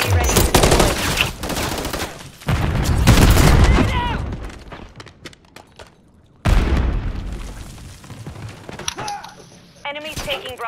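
Gunfire and a grenade blast in a Call of Duty: Modern Warfare III multiplayer match: loud, rapid automatic fire and heavy booms come in dense bursts, broken by a brief near-silence, with players talking over the action.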